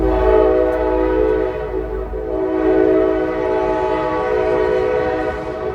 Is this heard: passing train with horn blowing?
yes